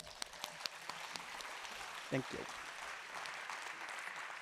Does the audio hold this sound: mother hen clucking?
no